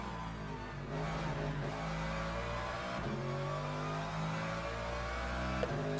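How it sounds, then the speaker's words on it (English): A race car in the Le Mans Ultimate sim pulls hard away from a rival BMW, its engine droning steadily and loudly for the whole stretch with a rising pitch, and no talk over it. "How I accelerate away from the BMW?"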